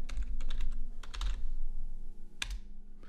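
Computer keyboard typing while keywords are entered into an online ad-campaign setup form, close and fairly loud: bursts of rapid keystrokes, a brief pause, then a final sharp key press, with no talking.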